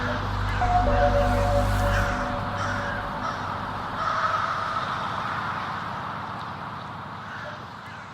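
Crows caw repeatedly in the distance over a steady outdoor background hum in an empty park, with occasional louder calls standing out from the wash of ambient noise.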